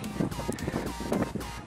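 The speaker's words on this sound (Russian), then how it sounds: "Ветер на поле очень сильный." Gusty wind on a ploughed field buffeting the microphone with low rumbling thumps and rushing bursts, loud and close.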